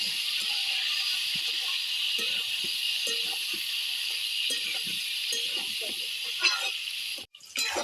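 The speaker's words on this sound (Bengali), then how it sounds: "এই আলুগুলো লাল লাল করে ভেজে নেব" Cut potatoes seasoned with salt and turmeric fry in hot oil, giving a steady, bright sizzle that hisses continuously with faint utensil clinks and a brief muffled bump near the end.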